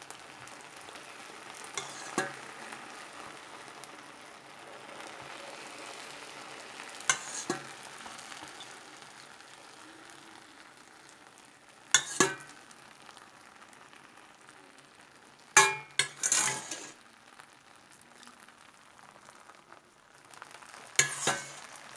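Syrup poured over hot baklava made from ready-made phyllo gives a soft, steady sizzle and crackle, with a few louder bursts of hissing spaced through it and no voices.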